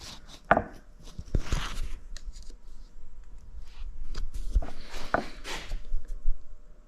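A screwdriver prying up the clamp on a car's drive axle boot, giving a few sharp metallic clicks and snaps spaced apart over a low, quiet background.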